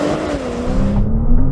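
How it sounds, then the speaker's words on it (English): A new Audi RS5 doing a launch-control start, its engine loud and close as it revs up hard with a rising roar and a gear change, no voices over it. "So how quick is this thing? Well, let's launch it and find out."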